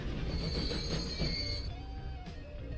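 A train runs along the tracks in the Transport Fever video game, with steady rumbling, high metallic wheel squeal and a rising tone as it builds up speed, loud and continuous, with no talk.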